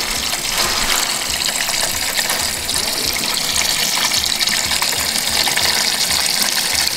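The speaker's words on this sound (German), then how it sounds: "Hier haben wir eine Schmutzwasserpumpe." Water gushes steadily and loudly from a dirty-water pump, a constant broadband rush with no pauses for the whole stretch.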